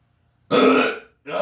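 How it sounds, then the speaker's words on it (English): A single loud, close burp, followed moments later by a second shorter belch, with no talking between them, during a dual-wielding drill workout session. "Oh, hold on. I think I got a burp."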